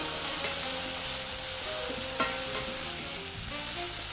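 Food with rice vinegar and lemon sizzles steadily in a hot pan while a utensil stirs and scrapes through it, with a couple of sharp clinks against the pan.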